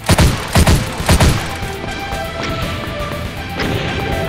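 Three heavy gunshot blasts from the video game Doom 2 in quick succession, loud and booming, followed by a fading echoing game ambience.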